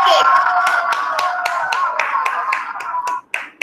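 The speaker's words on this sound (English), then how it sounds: "This clap is also for you." Sharp, evenly spaced hand claps ring out close to the microphone during an online kindergarten class celebration, roughly a dozen beats over a sustained voice, then trailing off at the end.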